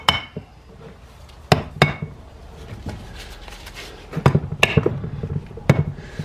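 Dead blow hammer tapping the aluminum cylinder head of a locked-up 2004 Honda CRF250 dirt bike engine during teardown: a series of sharp, close knocks in irregular clusters, some doubled, with quieter handling noise between.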